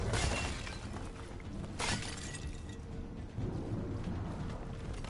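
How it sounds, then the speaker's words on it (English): Clay pots break apart in Dragon Age: The Veilguard, one sharp shattering crash followed by a lighter second break, set against a rumbling, noisy game ambience. "I don't know if smashing all the pots is worth it."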